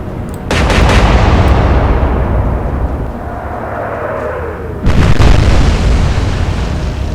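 Naval guns fire shells in the Atlantic Fleet game, Royal Navy against Kriegsmarine: two heavy, booming salvos roughly four seconds apart, each with a loud blast followed by a long rolling rumble that fills the gap.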